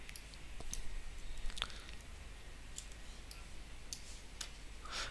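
A computer mouse clicks a submit button in stock-booking software, giving a few faint, sharp clicks spread over a quiet background hiss, close and soft, with no talking.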